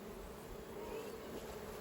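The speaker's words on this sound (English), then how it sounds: "the bees are still flying out the top" Agitated honey bees buzz around a hive box in a dense, continuous drone that holds steady and close throughout, with no talking.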